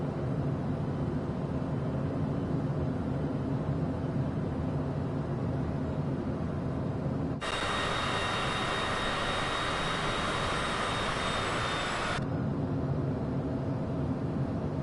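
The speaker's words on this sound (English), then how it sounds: "coming in for a landing" Airplane engine roar from Microsoft Flight Simulator 2024 on PS5 during a landing approach, a steady broadband jet-like rush that swells sharply louder partway through with a thin whine on top, then drops back to the lower drone.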